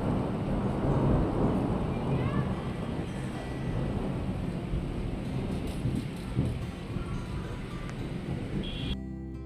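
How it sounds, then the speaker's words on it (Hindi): A thunderstorm with rain in Jaipur gives a continuous broadband rumble of heavy rain and low thunder, loud and steady for the whole stretch, with wind buffeting the microphone. "आज अच्छी खासी यहाँ पे बारिश हुई।"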